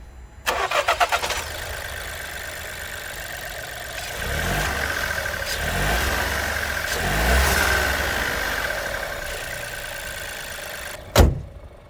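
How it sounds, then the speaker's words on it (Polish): A Volkswagen Polo 1.0 TSI three-cylinder 110 hp engine cranks and fires up, then settles into a steady idle with a brief mid-clip rise in revs, heard close and alone, ending with a sharp click. "Ja do testu wybrałem mocniejszy wariant o mocy 110 koni, który tak to brzmi."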